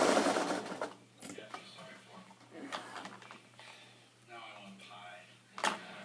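A sewing machine stitches kick-plate and side seams in fabric, running in short whirring bursts with pauses between them. Quiet talk runs alongside.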